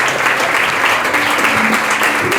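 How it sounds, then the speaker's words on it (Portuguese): Congregation applauding loudly and steadily at a church service celebrating women, dense clapping filling the space with a few faint voices mixed in. "aplauda ao Senhor bem forte."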